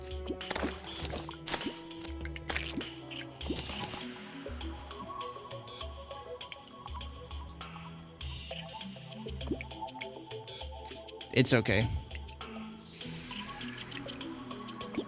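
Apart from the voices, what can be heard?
summon splashing into water in Terraria video game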